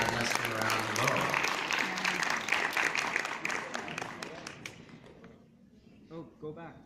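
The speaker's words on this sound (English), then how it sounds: "Please give a round of applause to our panelists from around the world." A conference audience applauds its panelists, loud sustained clapping for about five seconds that fades out, followed by a few quieter moments with brief voices.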